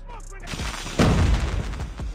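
Bursts of AK-47 assault rifle fire in the mobile shooter Call of Duty Mobile, a loud cluster of rapid shots with booming impacts over a short stretch of game audio.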